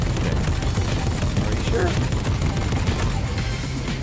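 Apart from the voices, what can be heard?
gunfire in Fortnite video game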